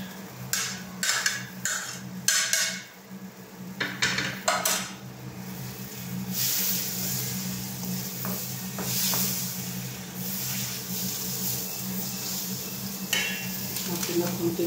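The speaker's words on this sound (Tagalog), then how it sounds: "So, lalagay na po natin yung ating gulay." Vegetables tossed into a pan of cooked chicken for pancit guisado, sharp clatters of a utensil against the pan early on, then a steady sizzle and stirring scrape, with a voice talking faintly throughout.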